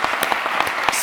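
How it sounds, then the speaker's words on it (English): Conference audience in Riga applauding the final speakers of a UX and design in public services session, a brief burst of scattered claps across a room, moderately loud and steady. "please, huge applause to our"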